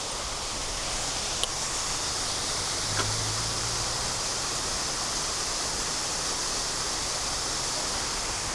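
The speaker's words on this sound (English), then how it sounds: "I can hear the water." Waterfall along an urban rail trail in summer, a steady broadband rush of running water heard at a moderate distance, constant and unbroken with a couple of faint brief knocks.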